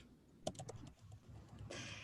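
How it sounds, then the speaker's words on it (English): Quiet typing on a computer keyboard, a quick irregular run of soft key clicks close by with a slightly louder clatter near the end, no speech. "I'm typing that as I say it."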